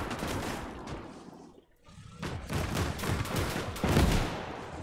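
Anti-aircraft guns open up in the WWII video game Gates of Hell, a dense, loud stream of rapid bursts that drops away briefly, then returns and swells into a heavier barrage.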